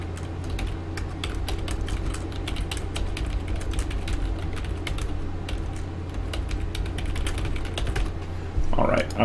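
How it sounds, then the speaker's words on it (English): Steady clicking of keys on a computer keyboard over a constant low mechanical hum, with a brief louder rustle near the end. "I'm also typing there."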